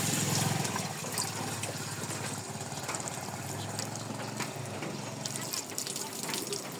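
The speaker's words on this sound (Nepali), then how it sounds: "अब यसमा थोरै पानी लगाइदिन्छु" Water being poured over flowers at a home, a steady splashing, gurgling wash that carries on loud and close throughout, with murmured voices in the background.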